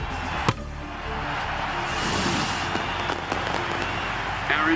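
A cricket crowd at a Big Bash League match between the Hobart Hurricanes and Melbourne Renegades applauds a wicket, a steady broad wash of clapping and cheering that swells slightly midway, with a sharp knock near the start.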